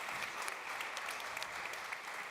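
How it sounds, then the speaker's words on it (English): Sustained audience applause at the Lush Spring Prize 2023 award ceremony, a dense, even wash of many hands clapping that carries on without a break. "I genuinely think we should have another round of applause for that."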